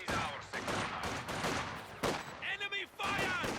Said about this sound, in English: Here comes the machine gun.